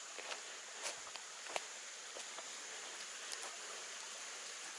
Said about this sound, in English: It's just a rapid or whatever in the creek I'm hearing.